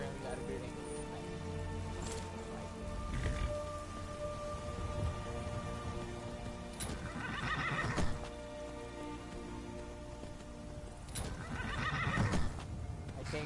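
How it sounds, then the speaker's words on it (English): In Skyrim, a tamed horse whinnies several times over clopping hooves and steady rain, with a spoken voice heard alongside. "Tamed a horse."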